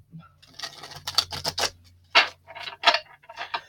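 Tarot cards are shuffled quickly near the microphone, producing a series of sharp papery riffles and flicks in uneven bursts over a faint steady hum.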